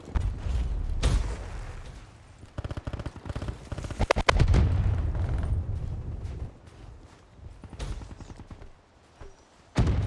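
A grenade goes off mid-match in Black Ops 3 on PS3 with a heavy, booming blast amid scattered gunfire and mechanical clatter.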